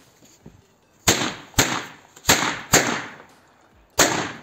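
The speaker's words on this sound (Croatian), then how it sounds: "sljedeća petarda je 5 puta pirat" Five sharp "Pirat" firecracker bangs go off outdoors in an uneven series, each a loud crack followed by a short echoing tail, with quiet stretches between them.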